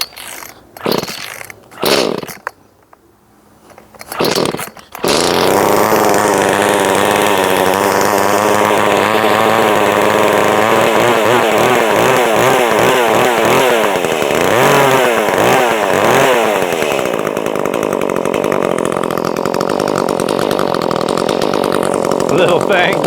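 Chainsaw with a JB Weld-repaired cylinder and a sharpened chain cutting wood. A few brief knocks come first, then a loud, sustained engine roar with its pitch climbing and dropping as the throttle works and the chain bites.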